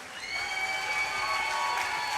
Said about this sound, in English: Ladies and gentlemen, a big round of applause for both of these fighters.